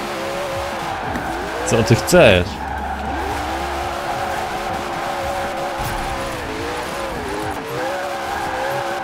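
A Koenigsegg Regera drifts in Forza Horizon 4, with an engine droning steadily and tires squealing in a sharp burst midway, while someone speaks over it.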